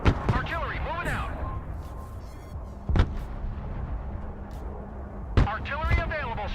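MLRS rocket artillery fire in a military video game: heavy booming blasts at intervals, with the loudest bursts near the start, around three seconds and near five and a half seconds, under ongoing chatter and radio voices.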